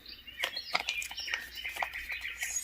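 Birds sing and chirp in a steady, lively chorus, with bright overlapping tweets and short calls repeating throughout at moderate volume and no talking.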